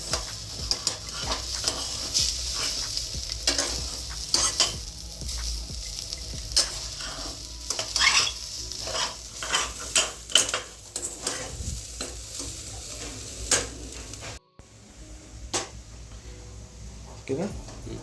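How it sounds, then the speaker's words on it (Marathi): Paneer stirred into rice in a pressure cooker for paneer biryani: a spoon scrapes and clinks against the metal pot over a soft sizzle, with brief gaps, and talk is heard over it. "ते पनीर आपण टाकलेलं आहे आता तांदूळमध्ये, म्हणजे कुकरमध्ये. मिक्स करू."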